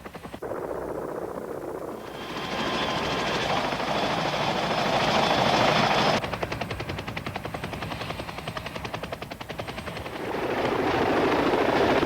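A CH-46E Marine Corps military helicopter beats out a loud, continuous rotor thump along with engine whine. The pulsing chop sharpens and grows rapid midway through, then settles back into a dense roar.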